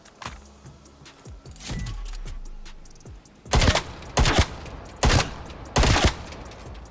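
Several loud, sharp gunshots from a hard-recoiling primary weapon in Call of Duty: Black Ops Cold War ring out near the end, in irregular close bursts, after a stretch of quieter mechanical handling and clicks.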